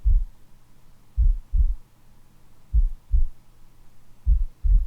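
Slow heartbeat beating in steady lub-dub pairs, four double thumps, deep and muffled over a soft low hum as a calm backdrop for guided meditation, with no talking.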